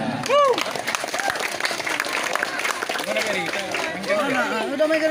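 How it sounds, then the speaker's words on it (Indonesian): Crowd applause at a football tournament final between Langsa and Kuala Simpang, steady broadband clapping for about five seconds, mixed with loud overlapping voices, shouts and chatter from a nearby crowd. "Tepuk tangan untuk semuanya."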